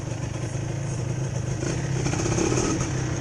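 A Yamaha LS125 motorcycle rides through Patong streets at night. Its engine drones steadily and close up for the whole stretch, with faint clatter and wind noise.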